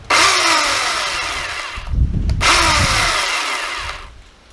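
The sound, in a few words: electric chainsaw revving up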